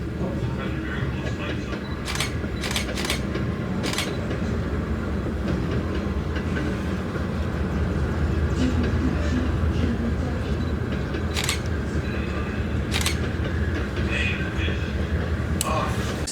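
Locomotives rumble along the rails in a steady rolling din with rhythmic clacks and sharp metallic clicks at intervals, heard continuously and fairly close, with voices of people talking mixed underneath.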